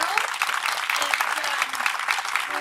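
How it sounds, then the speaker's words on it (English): An audience at a homelessness symposium gives the panel a steady wash of applause, dense and continuous, with faint voices mixed into the clapping. "can I get a big round of applause for our panel?"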